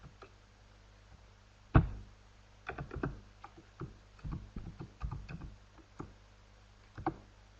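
Keys on a computer keyboard clack in irregular bursts of quick taps with short pauses between, close and fairly quiet against a steady low hum, with no voices.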